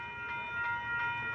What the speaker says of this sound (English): As this northbound train pulled in